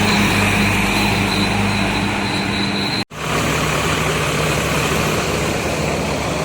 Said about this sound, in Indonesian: Ini bus pariwisata.